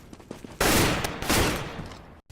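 Loud gunfire sound effect: a sharp blast followed by a sustained burst of rapid shots, a second heavy volley, then an abrupt cutoff and a brief tail.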